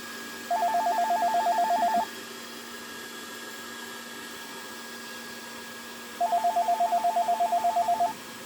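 A satellite phone line gives two bursts of rapid, evenly pulsed tones, separated by a pause of steady hiss and hum.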